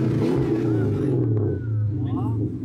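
A Brazilian Federal Highway Police car's V8 engine revs loudly and steadily, a deep throaty roar rising and falling, with voices talking over it.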